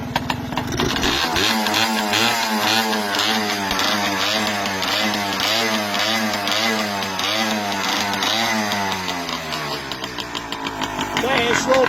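Small 175 cc Riverside motorcycle, stroked and bored, riding at steady throttle: a loud, buzzy, raspy single-cylinder drone close by that rises and falls in pitch with gear changes, running continuously without a break.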